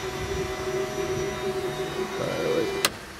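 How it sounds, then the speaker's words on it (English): An aftermarket car fuel booster pump in a shop car runs with a steady electric whine and hum, fairly faint, ending in a brief sharp click. "This is the booster pump."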